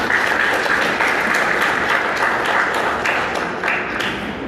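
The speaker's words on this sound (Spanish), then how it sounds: "Comenzamos con el abogado Aníbal Izaguirre, al cual recibimos con un fuerte aplauso." An audience at a legal panel discussion on implementing a new penal code gives steady, full applause that holds loud and even for several seconds, with no talk over it.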